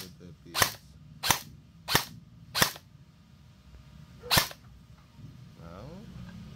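An LDT MP5K gel blaster toy gun fires five sharp, single snapping shots: four evenly spaced, then a pause before the fifth, each loud and close in a quiet room.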